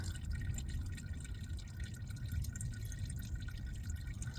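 Hot, thin used engine oil draining from a car during an oil change, a steady liquid pour and trickle with close dripping, continuous and fairly quiet with no talking.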